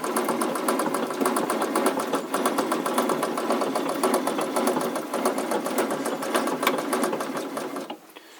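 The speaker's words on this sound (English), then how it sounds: "can we treadle Sergers or Overlockers? And the answer is yes." A treadle-powered Baby Lock serger overlocker stitches with a rapid, rhythmic mechanical clatter that runs steadily and close up, then slows and stops near the end. No one speaks.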